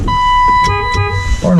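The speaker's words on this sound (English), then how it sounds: "horn works" A BMW E36 M3's horn sounds in a brief, loud blast with steady tonal layers inside the car, followed by a short pause and a lower second tone near the end, with cabin noise underneath.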